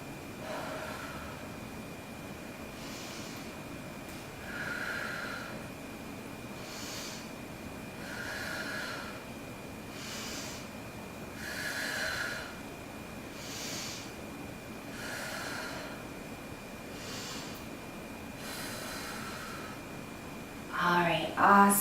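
Slow, deep breaths held in a hip-opening yoga pose, each a soft airy inhale or exhale repeating every few seconds in a quiet room, close and gentle.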